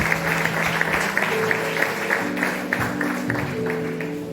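A church congregation applauds the Lord during a worship service, steady sustained clapping from a crowd filling the room at moderate loudness, with tonal singing or instrument lines running underneath.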